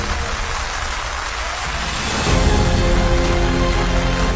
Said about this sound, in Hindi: मूसलाधार बारिश भी उनके जोश को नहीं रोक सकी